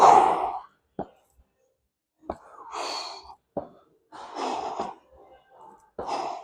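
Heavy, effortful breaths and sighs during a quad-focused leg workout with sled pushes, coming in short bursts separated by quiet gaps, close and fairly loud with no talking.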